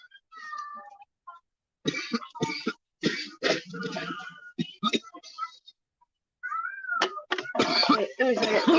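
A cat meows several times, clear and fairly close, in short rising cries. People talk and clear their throats in between the meows.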